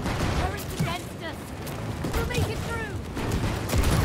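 Rapid gunfire in the video game It Takes Two as shots are aimed at larvae, a dense run of bursts blended with bright game effects and voices talking over it.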